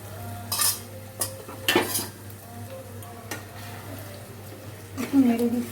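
A spatula stirs onion-rich masala for rohu fish do pyaza in a pan, giving a few scattered scrapes and clinks over a steady low hum, with a brief voice near the end.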